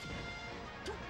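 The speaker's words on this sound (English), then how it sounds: "good forward smash" A single hard smash impact from Captain Falcon's forward smash in a Super Smash Bros match, heard as one quiet crack over low game noise near the end.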